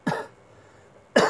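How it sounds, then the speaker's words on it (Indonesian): Two sharp coughs from one person, close and loud, separated by a short pause of about one second. "aduh, lagi batuk nih coy, nggak enak."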